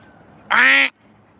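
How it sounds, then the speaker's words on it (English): A single loud, raspy duck quack, about half a second long, stands out clearly over quiet outdoor background. "I hear more ducks."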